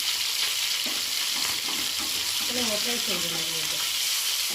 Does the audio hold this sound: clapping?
no